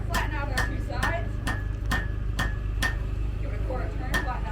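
A blacksmith hammers hot iron to forge a nail in St. Augustine, Florida. About nine sharp, ringing metal strikes land in a steady rhythm over a low background hum.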